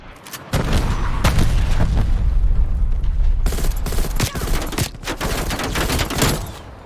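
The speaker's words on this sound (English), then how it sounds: "Artillery targeting detected. Net call, incoming artillery." Incoming artillery strike in Call of Duty Cold War multiplayer: a sustained barrage of loud, overlapping explosions and booming blasts with crackling gunfire, heavy and continuous for several seconds with sharp individual impacts toward the end.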